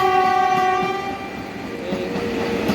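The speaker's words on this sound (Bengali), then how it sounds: "ট্রেনটি কিন্তু খুব তাড়াতাড়ি দেখুন চালু হতেই চলে গেল" A Vande Bharat Express train built by Integral Coach Factory, Chennai, departs with a loud, steady horn tone over rumbling wheels on the track, heard close by.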